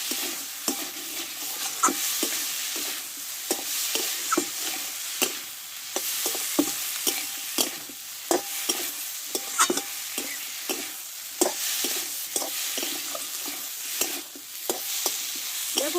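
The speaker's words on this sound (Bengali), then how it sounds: "আলুর সঙ্গে মশলাটা একটু ভালো করে কষে নেব" Potatoes fry with spice paste in a pan: a steady, close sizzle broken by frequent scraping stirs at an uneven rhythm, with no voices.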